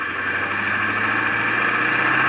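Car engine running steadily during a first drive after a list of repairs, a loud continuous drone through a gear change with no break.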